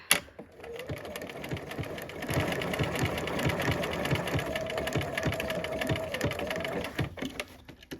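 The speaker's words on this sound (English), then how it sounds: "a good place to play with your stitches, your fancy stitches on your machine" Home sewing machine running decorative fancy stitches on a quilted sampler block, a steady fast mechanical chatter held for about six seconds with a slight rhythmic knock, close and fairly loud, starting and stopping cleanly.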